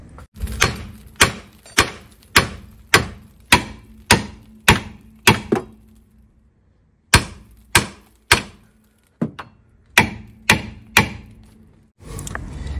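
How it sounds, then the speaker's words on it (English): Sharp, ringing hammer blows strike the lower suspension arm of a Peugeot 107, landing in quick regular bursts of about a dozen hits, then a short pause before another run of strikes, close and loud. "I'm going to hammer now."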